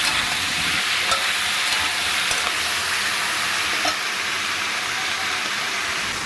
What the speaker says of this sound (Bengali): এর মধ্যে একটু লবণ হলুদ দিয়ে ভাজতে থাকবে।